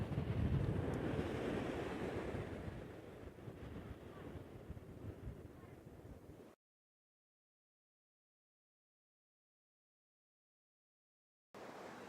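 Ocean surf rolls in at Laguna Beach on a rainy day, a broad rushing roar with heavy wind buffeting the microphone. It fades a little, then cuts to silence for several seconds before resuming briefly.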